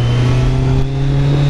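A car engine revs under increasing throttle, with a strong steady low drone and rising mid tones, loud and close for the whole moment with no talk.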